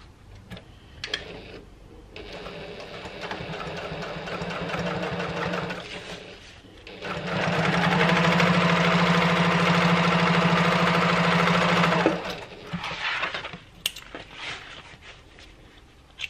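A Janome HD9 sewing machine top stitches in two long, steady runs, a humming mechanical drone with a rapid rhythmic needle beat, close up, separated by a short pause and framed by small handling clicks; no one speaks.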